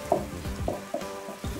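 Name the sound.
stirring tomato stew vigorously in a pan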